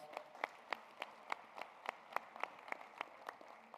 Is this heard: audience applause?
yes